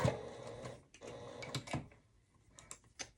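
A domestic sewing machine stitches a short seam back and forth on fabric for a tissue holder, giving several quiet mechanical whirring bursts separated by brief pauses.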